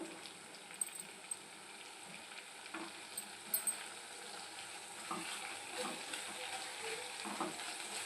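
Onions with ginger garlic paste frying in a pan for egg bhurji give a faint, steady sizzle, broken by occasional soft stirring scrapes and small clatters.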